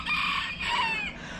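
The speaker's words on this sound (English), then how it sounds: "These are 5 week old chicks, so they're a little bit older." Five-week-old chicks give high, wavering cheeps close by. Two drawn-out calls overlap and rise and fall over a faint low hum, and no one speaks.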